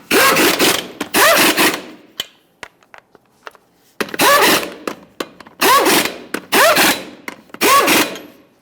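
Impact wrench spinning 22mm lug nuts on a 1999-2006 Chevrolet Silverado front wheel, loud close bursts in four or five separate runs with short gaps and faint clicks between them.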